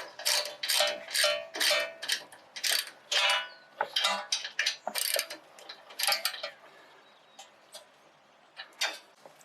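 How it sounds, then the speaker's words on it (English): A ratchet clicks as it tightens bolts on a truck steering knuckle and hub, close rapid bursts of ticking strokes with short pauses between them, fading toward the end. "now I'm gonna hit it with the ratchet"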